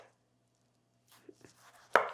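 Knife cutting the top off a tomato on a board: a couple of soft taps, then one sharper, louder chop near the end, close up with no speech.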